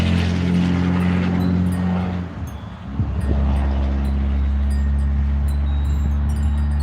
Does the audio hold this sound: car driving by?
yes